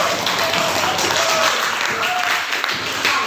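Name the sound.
classroom applause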